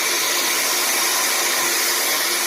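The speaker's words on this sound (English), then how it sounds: "I'm just going to start whisking." Egg whites being whisked for meringue with an electric mixer on high, a loud, steady high-pitched whirring drone that runs unbroken throughout.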